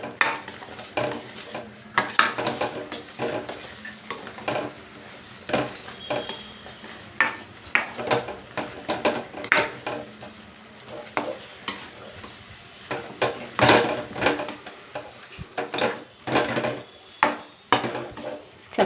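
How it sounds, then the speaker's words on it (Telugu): Semolina being stirred into boiling water in a metal pot, with repeated irregular scraping and clanking strokes of the spoon against the pot over a bubbling hiss, close and continuous, no talking. "ఇప్పుడు రవ్వ వేసుకుని కలుపుకున్నాము. దగ్గరకు వచ్చేదాకా కలుపుకోవాలి."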